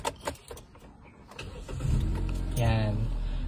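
A 2019 Hyundai Accent sedan's engine cranks and catches after a push-button start, then settles into a steady, close idle hum; clicks and a few faint voices come before it.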